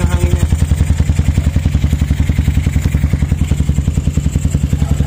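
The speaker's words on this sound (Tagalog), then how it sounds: "Dinig yung higop ng hangin," A motorcycle engine idles loud and close, its rhythmic thumping pulses steady and even throughout, with the air intake drawing through an open KRY RS8 28mm round-slide racing carburettor.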